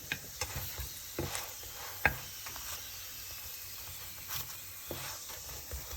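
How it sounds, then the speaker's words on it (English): Flat egg bread cooks in a hot pan with a soft, steady sizzle, broken by a few light scrapes and taps of a utensil, fairly quiet and with no voices. "Now you can see our egg bread is cooking."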